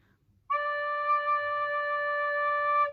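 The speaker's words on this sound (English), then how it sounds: "And D on the recorder," A recorder sounds a single sustained low D, clear and steady for about two and a half seconds after a short silence, solo and near with faint background hum.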